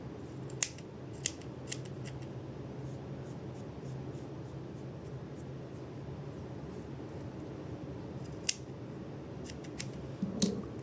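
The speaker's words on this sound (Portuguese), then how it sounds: "Agora a gente só faz aparar as pontas." Scissors snipping the loose yarn ends of a small crochet tassel for an earring, several short crisp cuts in two clusters near the start and end, close and fairly quiet with no talking.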